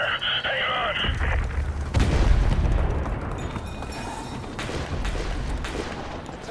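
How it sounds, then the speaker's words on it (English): Heavy gunfire and explosions in Call of Duty: Modern Warfare 2 near an overpass, with a big boom around two seconds into a continuous roar of battle and scattered shots that fade slightly toward the end. "We're taking heavy fire on our position north of the overpass!"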